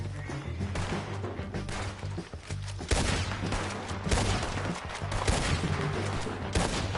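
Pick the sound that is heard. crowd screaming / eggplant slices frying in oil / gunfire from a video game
gunfire from a video game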